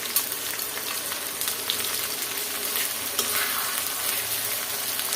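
Chicken marinated in ginger-garlic paste, soy sauce, salt and garam masala fries in a pan with onions, giving a close, steady, dense sizzle with occasional stirring scrapes and no one talking.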